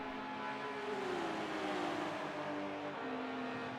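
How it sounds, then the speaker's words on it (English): Race cars in the Forza racing video game easing off the throttle, a smooth engine drone with falling pitch as revs drop, steady and moderately quiet, no voices. "They sound like they've let off the throttle"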